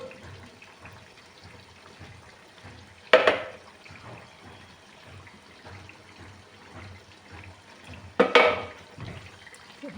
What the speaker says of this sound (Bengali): তাই জন্য তেলগুলো সব ঢেলে দিচ্ছি।